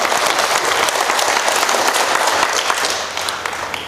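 A crowd at a laughter-yoga health lecture during a medical expo bursts into steady, dense applause, loud and sustained throughout, easing slightly at the very end.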